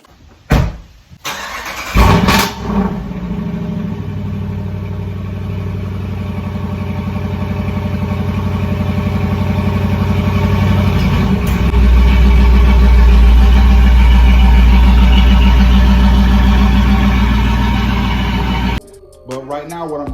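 A Dodge Durango with a muffler-delete exhaust starts up with a few sharp bursts, then settles into a loud, throaty idle that swells into a deeper rev before cutting off near the end.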